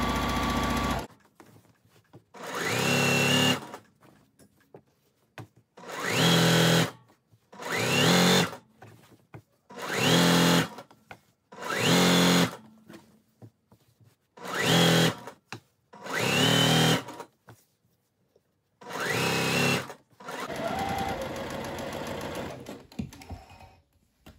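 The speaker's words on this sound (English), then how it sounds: "I'm going to sew my second row of gathering stitches at 1 centimeter" A sewing machine runs gathering stitches through the skirt of a sundress. It whirs loudly and close in about ten separate bursts, each a second or two long, with short silent gaps between them.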